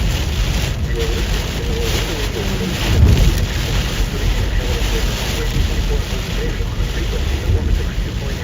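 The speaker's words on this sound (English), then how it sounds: "I'm in the heavy rain" Heavy rain pours steadily throughout during a storm chase, with a brief low rumble of thunder around three seconds in and a broad, continuous wash of noise; faint voices may sit underneath.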